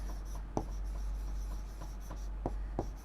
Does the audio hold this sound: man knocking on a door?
no